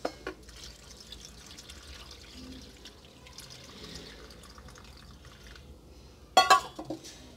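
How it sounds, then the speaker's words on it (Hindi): Cooled boiled water is poured into a jar of turnip pickle, a soft, quiet trickle and splash running throughout, then a louder burst of splashing near the end. "अब ये पानी मैं इसमें डाल दूँगी अचार में"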